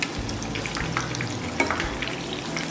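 Chicken kababs fry in a pan with a dense, continuous sizzle, and soft scraping shows they are being turned and moved throughout.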